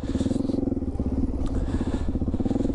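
A Suzuki DR-Z400E dual sport motorcycle being ridden, its engine giving a steady, close, pulsing drone with no talk over it.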